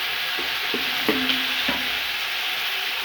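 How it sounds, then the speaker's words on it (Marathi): Ginger garlic paste frying in oil in an iron kadai for country chicken, a loud, dense, steady sizzle heard up close, with a few brief clinks of a spoon stirring against the pan. "अद्रक लसूणची पेस्ट पहिल्यांदा घेतली छान त्याची तेलात फ्राय करून घ्यायची"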